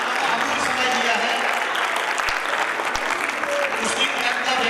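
A gathered audience at a Bhagavad Katha religious discourse claps in greeting for a visiting spiritual leader, loud continuous applause with a few individual sharp claps standing out.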